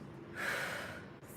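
Forceful exhalation during a kettlebell legs and abs workout, a single close breath swelling for about a second, then a short pause and another breath starting.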